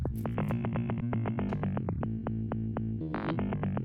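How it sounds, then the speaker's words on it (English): Manipulated snippets of a recording of a broken Russian synthesizer form a dense, distorted bass line of rapid repeated pulses, loud and continuous with echo-like smearing and a brief high burst near the end, with no voices. "this is just clips that I took and manipulated from that recording of that broken Russian synthesizer"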